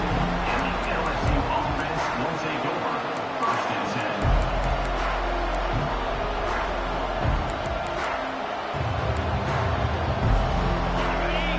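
Steady roar of a large stadium crowd in the college football video game NCAA 25, dense and continuous, with swells of cheering rising and falling over the whole stretch.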